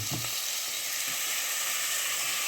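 Onions and chilies fry in hot oil for a North Indian rajma curry, giving a steady, close, even sizzle with no pauses and no talking.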